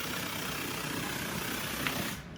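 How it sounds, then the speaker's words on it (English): A harsh, steady burst of static-like noise from a soundbar fills the clip, then abruptly drops away just before the end. "Well, that's my soundbar."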